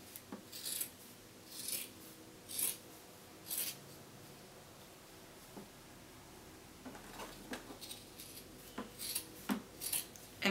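Scissors snip through a loose T-shirt fabric being trimmed into a crop top, giving a series of crisp, close cuts in uneven bursts with quiet pauses between.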